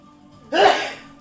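One sudden, loud, breathy sneeze bursts out close by during a tabletop role-playing game session, then fades quickly.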